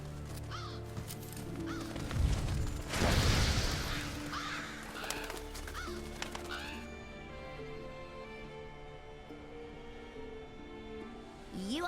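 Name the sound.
Revolture scavenger birds cawing, Monster Hunter World Iceborne video game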